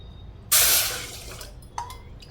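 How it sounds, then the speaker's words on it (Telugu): A sudden splash of water poured into a metal pot lasts about half a second, fading into a brief trickle, followed by a single clink of metal close by. "ఇప్పుడు వాటర్ పోసుకుందాం."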